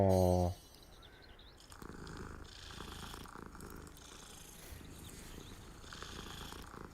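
A cat purrs softly and steadily in a quiet room. The low rumbling goes on continuously for several seconds after a brief opening sound.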